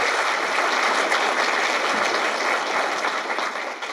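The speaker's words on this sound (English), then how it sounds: "Applause. Applause." Steady, dense applause from an audience at a political event, loud and continuous throughout, easing slightly toward the end.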